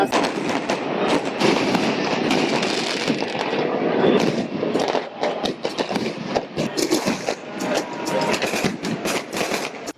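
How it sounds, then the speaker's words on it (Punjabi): A Vaisakhi fireworks display at Sri Darbar Sahib produces a dense, continuous barrage of crackling bursts and pops that blend into a loud, rolling roar throughout, with no clear speech. "ਅੱਜ ਆਤਿਸ਼ਬਾਜ਼ੀ ਹੋਈ ਦਰਬਾਰ ਸਾਹਿਬ ਵਿਖੇ"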